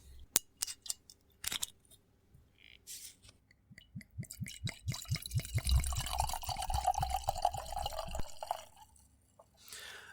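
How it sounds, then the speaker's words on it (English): A few clicks and taps, then sake glugs and trickles into a glass, the pour rising in pitch before tapering off with a last clink. "I'm going to go ahead and open up my Katsuyama and give this a pour as well."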